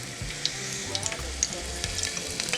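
A piece of onion sizzles in hot oil on an induction burner, a steady close crackle with small bright pops and a few faint clinks, no voices.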